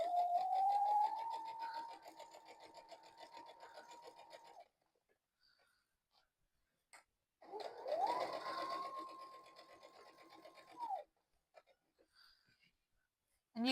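A sewing machine stitches a tote bag in two steady close bursts of rapid whirring, separated by a short pause and faint handling sounds.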